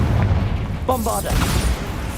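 A Bombarda spell explosion in the video game Hogwarts Legacy sounds as a short, booming blast with a low rumble. A spoken voice briefly overlaps it.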